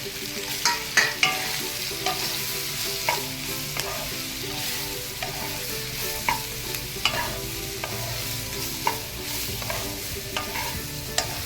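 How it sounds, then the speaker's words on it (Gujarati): Chopped onions sauté in a pan with coriander-cumin powder and garam masala, giving a steady, loud sizzle broken by frequent scraping stirs close by, with no talking. "હવે એમાં ડુંગળી સાંતળીશું।"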